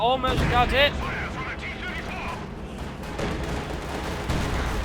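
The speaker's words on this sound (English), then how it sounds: "The Katrusha's firing down." Katyusha rocket artillery fires in Company of Heroes 2, a rapid volley of whooshing launches at the start followed by a rumbling barrage of distant impacts, with a commentator talking over it.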